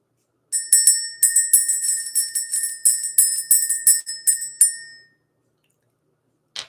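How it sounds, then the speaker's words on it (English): Small bell rung rapidly to clear energy, a bright metallic jingling in quick bursts for several seconds, then one last brief strike after a pause. "Let's ring this bell."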